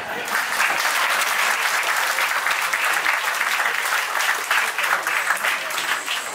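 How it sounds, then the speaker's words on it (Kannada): An audience at a Kannada Rajyotsava celebration breaks into loud, sustained applause, a dense wash of many hands clapping steadily throughout. "ಜೋರಾದ ಚಪ್ಪಾಳೆ."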